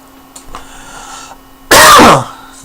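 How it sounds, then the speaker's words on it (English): A single sudden, loud burst of coughing or throat clearing from one person breaks into a quiet room, lasting a fraction of a second before fading back to near-silence. "Sorry, I still have a bit of a cough."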